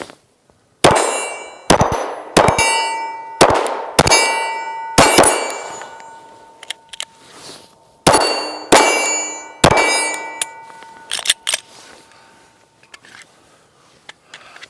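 Shots from a Glock 43x pistol clang off steel targets, about ten sharp ringing impacts in quick uneven groups with metallic ring decaying after each, loud and close, then a few fainter clinks.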